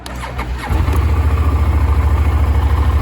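A Yamaha TDM 900 motorcycle engine cranks and catches after a brief moment, then settles into a loud, steady, lumpy idle with an even pulsing rhythm and no talking.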